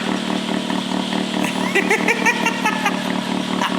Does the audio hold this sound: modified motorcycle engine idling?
yes